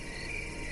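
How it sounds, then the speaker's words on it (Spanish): Crickets chirp in the Mexican countryside at night, a steady high-pitched trill that carries on without a break in a quiet rural setting. "oír el chillido de los grillos y el lejano ladrido de los perros del caserío"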